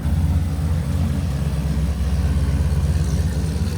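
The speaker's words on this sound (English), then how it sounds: "Car is running good." A Hellephant-swapped Toyota Supra engine idles steadily with a low, even rumble, close and loud, with no voices.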